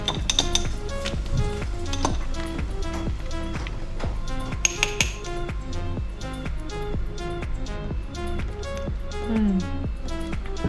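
A spoon clinks and scrapes steadily against a glass as a shandy beer drink is stirred with ice and sugar, producing rapid, repeated close-up metallic ticks and rattles throughout, with no talking.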